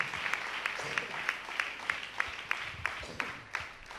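A church congregation claps in a steady rhythmic beat, sharp regular hand claps sounding roughly three times a second over a diffuse hall ambience, with no speech.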